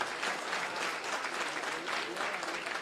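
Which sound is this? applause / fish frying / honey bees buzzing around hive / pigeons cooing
applause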